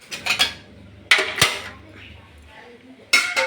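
A spoon clinks against a pot of boiling meat curry with green chillies in a few quick bursts of metallic scraping and knocking. Soft bubbling fills the quieter gaps between the bursts.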